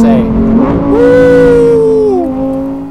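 A Lamborghini Huracan GT3 driven on the street, its engine note rising and holding as it accelerates, loud and close, with a person talking over it.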